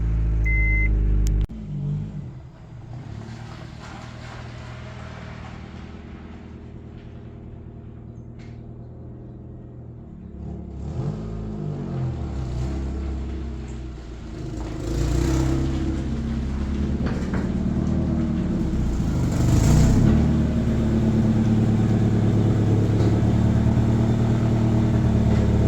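A Honda Civic wagon engine started off a jump pack, with a click and crank before the motor catches and settles into a steady idle, then rises with a few revs, close by with no talking.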